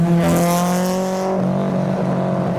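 A Nissan 300ZX engine drones loudly and steadily close by as the car drives into a Japanese car show, then the tone drops as it passes.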